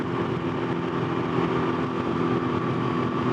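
A Can-Am Ryker engine drones at about 6,500 RPM, a steady buzzing hum with a constant pitch, close and continuous without letting up.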